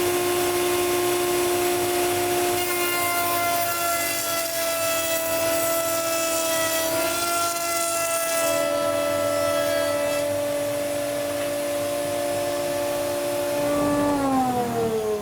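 A machine adds a profile to wooden trim, a loud continuous motor whine with steady tonal hum that shifts pitch slightly as the work feeds through, running throughout without speech.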